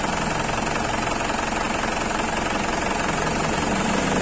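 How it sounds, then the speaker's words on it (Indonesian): A car engine keeps running after the ignition is switched off, held on by a turbo timer: a steady, loud, close mechanical chatter with dense rapid knocking and no voices. "Kontak sudah mati, tapi mesin masih menyala karena turbo timer on"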